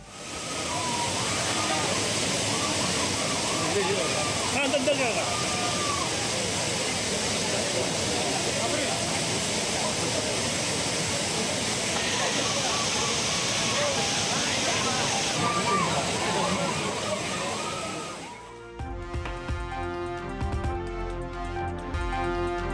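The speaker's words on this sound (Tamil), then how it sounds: "ஆர்ப்பரித்து கொட்டும் அருவி நீரில் குடும்பத்தினருடன் உற்சாக குளியல்." The roaring waterfall at Courtallam pours as a dense, continuous rush where tourists bathe, with a voice speaking over it before the sound cuts to music near the end.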